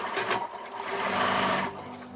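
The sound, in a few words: sewing machine stitching a tote bag seam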